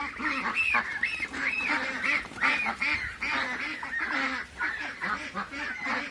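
Young ducks quack and honk repeatedly in a rapid, near, busy chorus of nasal calls, with a person handling them nearby.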